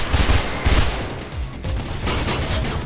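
Gunfire in Mirror's Edge, loud bursts of rapid shots that come in two quick clusters and then go on as a rougher rattle, with no voices.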